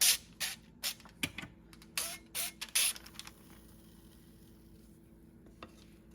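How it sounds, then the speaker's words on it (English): Several short, sharp hisses of avocado oil spray coating the ends of a loaf pan in quick bursts, close by, then quiet background. "I'm still going to spray it using this avocado oil just"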